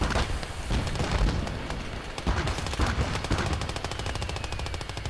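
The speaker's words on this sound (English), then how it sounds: "it's a 40mm gun indeed, so it's a buffer gun, similar to the ones the British do have" A 40mm Bofors anti-aircraft gun firing in the World War II battle game Call to Arms – Gates of Hell, with dense rapid bursts mixed with other gunfire and booms in a loud, continuous battle din.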